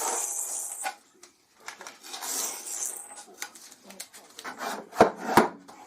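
A wooden tenon jig slides back and forth along a table saw fence with soft rubbing and scraping strokes, separated by brief pauses and ending in a couple of sharp knocks, close and fairly quiet.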